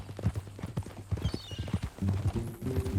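Horse hooves clip-clop in Red Dead Redemption 2, a quick, close run of hard hoof strikes on the ground, fairly quiet, with low ambient hum beneath.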